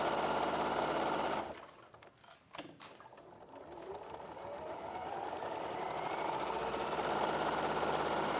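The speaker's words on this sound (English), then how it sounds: "Bit of speed sewing going on there" A sewing machine stitches fast on a soft toy lining, its steady mechanical whir stopping briefly, then resuming and running continuously, close and moderately loud.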